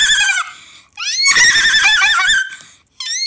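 A person's voice imitates a pony or horse whinny in several close, high, wavering bursts with short pauses between them.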